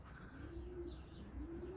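Racing pigeons in a stock loft give soft, low, rolling coos, close and gentle, against a quiet background with faint higher chirps and no talking.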